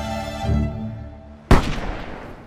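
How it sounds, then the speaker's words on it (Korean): A single sharp rifle shot cracks out loud and close during a deer hunt in a film, followed by a short echoing decay, preceded by a low rumble. "그리고 그 총성은 멀리 떨어진 루카스와 리브에게도 전해졌습니다"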